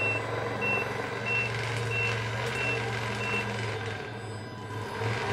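Steady electronic reversing beeps from the sound module of a Tamiya MFC-03 RC truck, evenly spaced and loud over a continuous engine-like hum.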